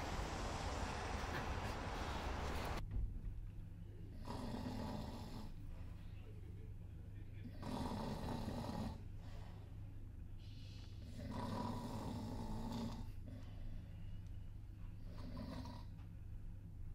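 A person asleep snores in slow, regular cycles of rasping breaths roughly every three to four seconds, close and steady over a low background hum.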